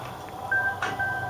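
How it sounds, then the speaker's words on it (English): A telephone chirps close by in a brief electronic tone, heard alone over a low steady background hum. "Phone's ringing."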